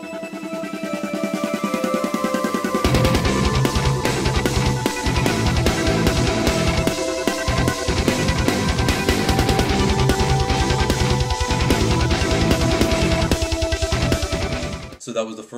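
Programmed metal drums pound out fast, dense kick and snare hits over a heavy distorted guitar riff. A sparse, quieter guitar intro builds into the full loud pattern, which cuts off abruptly near the end.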